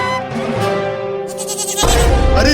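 Baby goat bleating in a cartoon, a loud tonal wavering cry that holds for a while, then shifts into a rougher, stronger bleat near the end, with no voices.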